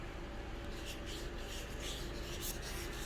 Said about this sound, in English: I'm going to use a bit of the WD-40 spray on the sandpaper, and I will sand a bit over here and over here.